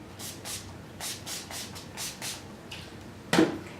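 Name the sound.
primer spray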